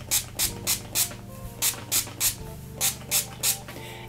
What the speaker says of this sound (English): I'll just spray it in my hair and see.